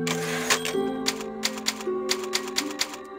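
Typewriter keys clack in a steady run of sharp strikes at the save point in the video game Resident Evil 4, over ambient game music and a sustained tone.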